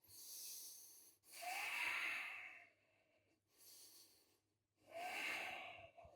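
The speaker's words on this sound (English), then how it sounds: "Let's take 2 breaths." Deep, slow breathing during a yoga stretch in a bootcamp workout: two long airy inhale-exhale cycles, close and hissing, with quiet pauses between breaths and no talking.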